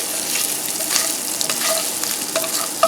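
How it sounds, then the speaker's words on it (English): Chunks of Spam sizzle and brown in a hot pan for a jambalaya, a close, dense crackle with scraping stirs and a few sharp pops. "And that'll help brown this meat."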